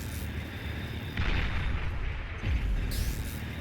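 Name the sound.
recluse units firing anti-air in the video game Beyond All Reason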